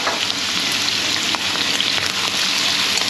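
Sliced chicken gizzards, cleaned and blanched, stir-frying in a wok with shredded ginger give off a loud, steady sizzle and crackle that runs unbroken throughout, with no voices.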